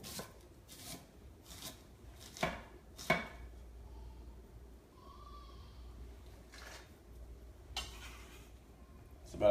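A knife shaves a shallot into fine, thin slices on a board, soft close cutting strokes in short bursts separated by quiet gaps.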